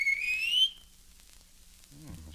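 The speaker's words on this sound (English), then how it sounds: "He always answers when I whistle to him." A person whistles to call a horse, a single clear rising whistle lasting just over half a second, followed by near silence and then a faint low voice at the end.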